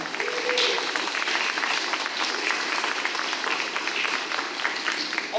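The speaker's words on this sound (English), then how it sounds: "Give them a round of applause." Audience applause fills a school awards ceremony hall, a dense, steady wash of clapping from a large crowd that carries on without a break for several seconds.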